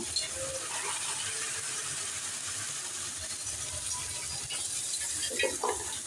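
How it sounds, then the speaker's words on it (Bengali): Water poured into a pot of salted lentils, a mix of three kinds of dal, to boil them; a steady, close splashing rush runs throughout with a few clinks near the end. "এগুলোকে জল দিয়ে দিচ্ছি সিদ্ধ করার জন্য"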